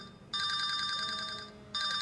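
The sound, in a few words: telephone ringing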